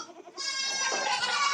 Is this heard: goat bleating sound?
yes